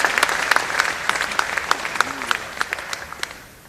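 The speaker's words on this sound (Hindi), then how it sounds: "जोर से ताली बजा के स्वागत करो," Loud, sustained applause from a large crowd at a public inauguration event in Indore, with sharp individual claps standing out and gradually thinning toward the end.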